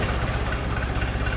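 A 1916 Dodge Brothers Touring Car engine idles smoothly with the hood open, a steady low throbbing rumble, close and even, with no voices.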